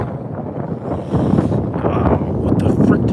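Strong, gusty wind of about 25 mph on an open disc golf course under a darkening, stormy sky, a steady low buffeting roar that swells louder partway through, with a voice speaking over it.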